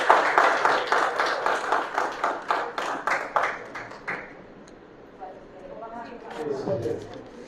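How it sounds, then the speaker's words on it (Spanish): An audience at a talk in San Pedro de Macorís claps in a fast, regular rhythm to welcome a guest, loud and close for several seconds before fading into quiet room noise and murmuring. "para quien pedimos un fuerte aplauso"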